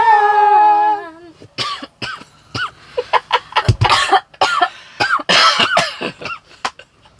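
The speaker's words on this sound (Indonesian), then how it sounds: "Aku batuk." A person coughs repeatedly in sharp, irregular bursts close to the mic, after a brief sung or hummed tone at the start.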